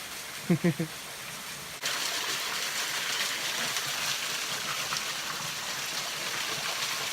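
A waterfall pours along a hiking trail near Auburn, California, as a steady, even rush of falling water that starts abruptly and then holds at moderate loudness. Brief voice-like sounds come just before the water begins.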